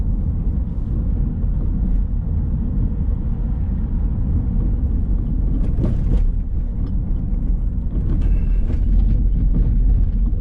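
A car rolls along a rough road with a steady, loud low rumble throughout, while a few sharper knocks and jolts from bumps stand out near the end. No one speaks.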